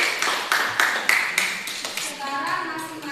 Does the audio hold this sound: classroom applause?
yes